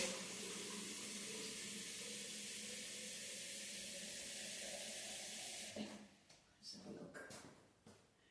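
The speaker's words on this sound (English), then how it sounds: "So I'm going to put some more water in." Steady stream of water running into a soup pan with lentils for several seconds, then stopping, followed by some clattering and handling noises.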